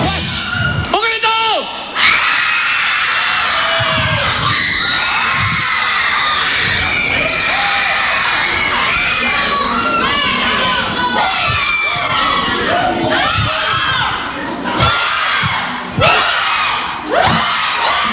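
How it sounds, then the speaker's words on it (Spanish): A concert crowd shouting and cheering at a live show, loud sustained massed voices with whoops and screams rising in waves, punctuated by brief dips and an amplified voice early on. "¡Un grito!"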